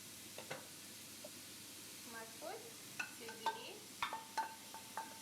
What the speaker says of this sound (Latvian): Uz karstas eļļas apcepšu burkānu sarīvets